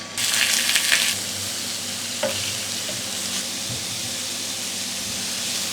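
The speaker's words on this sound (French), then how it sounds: "je vais mettre un filet d'huile d'olive, mettre mes tendrons de veau" Veal tendrons drop into hot olive oil in a pan and sear with a loud burst of sizzle, then settle into a continuous, even crackle up close, with a faint scrape or two along the way.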